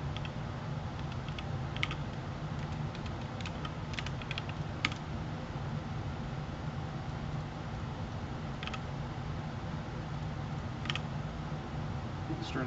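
Fingers type steadily on a computer keyboard, a run of light clicking keystrokes heard up close and alone, with no one speaking.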